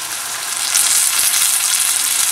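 Soy sauce hitting a hot pan of cooked onions, a loud close sizzle that swells after a moment and holds as a steady hiss, with no talk.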